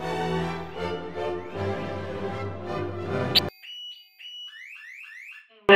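A sounding alarm, set off as a joke nuclear siren, beeps in a loud rising chirp pattern that follows a dense stretch of music, with sharp bursts at the start and end.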